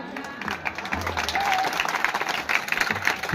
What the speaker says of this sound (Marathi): वा वा वा वाजव ना टाळी याच्यासाठी.